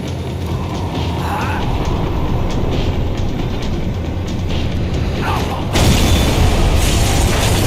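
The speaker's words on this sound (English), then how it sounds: "The tram was slowing down" Tram slowing down in the Max Payne 3 video game, a continuous rumbling rail drone with ratcheting mechanical clatter, shifting into a heavier, louder grinding roll near the end.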